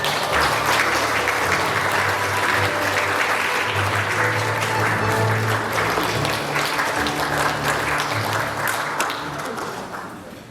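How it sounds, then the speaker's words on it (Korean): An audience at a Sejong city forum applauds to welcome the mayor up for his opening address. The clapping is loud, dense and continuous for about ten seconds and thins slightly at the end. "큰 박수를 부탁드리겠습니다."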